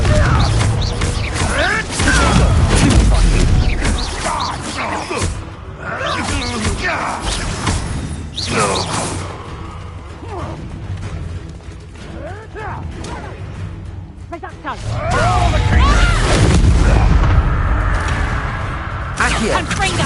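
Confringo blasting spells going off in a forest battle in Hogwarts Legacy, several bursty crashes and rumbling impacts repeating in loud waves amid continuous game noise, with a voice speaking over them.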